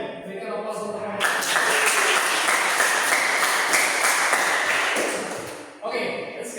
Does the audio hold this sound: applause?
yes